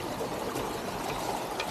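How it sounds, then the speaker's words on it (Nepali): Rainwater from a heavy rainstorm rushes across a flooded road in a steady, unbroken wash of flowing water. It is moderately loud and close, with no voices. "अब यहाँ पानी यसरी ब्लक भयो पुरै रोडमा आयो पानी"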